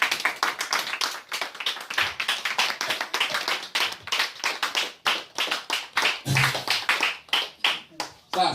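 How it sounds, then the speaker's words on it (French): A church congregation claps loudly in fast rhythmic bursts, close and forceful, with brief pauses between volleys and voices calling out among the claps. "Est-ce que tu peux acclamer très fort pour Jésus?"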